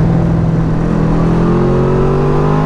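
A modified 200 hp Yamaha V-Max motorcycle revs hard, its loud engine note climbing steadily in pitch as it accelerates, close and continuous with no talking.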